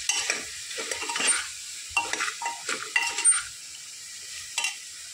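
Spices are stirred and sautéed in a pan, with intermittent scraping strokes of a utensil and a soft sizzle between them, close and without talk.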